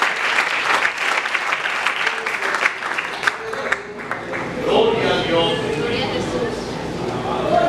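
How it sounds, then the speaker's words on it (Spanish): A church congregation claps loudly and steadily at first, and the clapping then gives way to voices and murmuring crowd noise in the second half. "Denle fuerte el aplauso al Señor."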